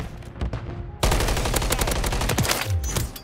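Call of Duty: Modern Warfare 3 gunfire in a ranked multiplayer match: a quieter stretch of distant shots, then a loud, dense run of rapid bursts that keeps going to the end.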